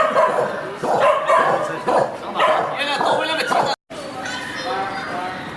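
A dog gives several short barks and yips close by, mixed with people talking over and between the barks.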